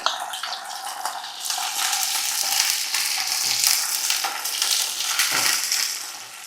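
Shallots frying in oil for a Kerala prawn curry, a steady loud sizzle with bursts of stirring and scraping throughout, no voices.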